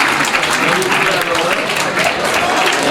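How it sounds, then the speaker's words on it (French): An audience applauds the twelve speakers on stage at the Prix Jules Favre 2022 ceremony, with dense, steady clapping that holds at an even level throughout. "Les 12 orateurs sur scène pour qu'on puisse les applaudir une dernière fois"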